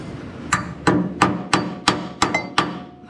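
Seven sharp metallic hammer blows knock out a rivet on a Chevrolet C10 truck's suspension, at a steady, even pace, loud and close, with short ringing decays between hits.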